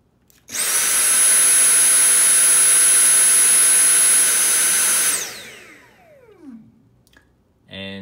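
A Dyson V7 cordless vacuum cleaner on its high setting starts with a loud, high-pitched whining whoosh, runs steadily for several seconds, then switches off and spins down with a falling whine, followed by a brief click.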